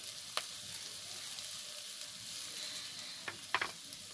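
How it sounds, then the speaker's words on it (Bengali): Catla fish fat and eggplant curry ingredients fry in a pan with a quiet, even sizzle, broken by a few sharp clicks from a utensil, with no voices. "একটু ভাজা ভাজা করে নিয়েছি সব কিছু দিয়ে।"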